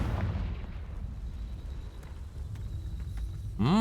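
Confringo fire spell cast in Hogwarts Legacy, a loud continuous rumbling blast with crackling bursts that swells again into a sharp, ringing impact at the end, with no one talking.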